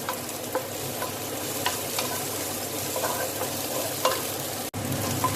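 Garlic and onion stir-frying in a pan for bitter melon stir-fry, a steady sizzle with scraping stir strokes and small clinks throughout, fairly close and continuous with one brief dropout near the end.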